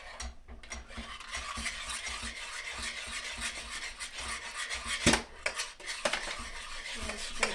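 A spoon scrapes and stirs continuously through a garlic pasta sauce thickened with corn flour and water, rubbing against a pot with rhythmic close scrapes and an occasional louder knock.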